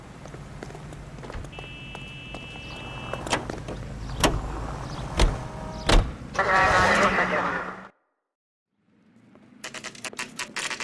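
Car engine and road noise in the L.A. Noire video game hum beneath a character's voice, with several sharp clicks and thumps, a louder burst, then a brief silence before the driving sound resumes.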